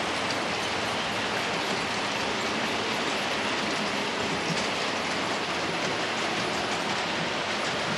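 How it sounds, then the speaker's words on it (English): A steady rolling rumble and rattle of model trains running on track, continuous and fairly loud with no voices. "You hear a lot of trains here."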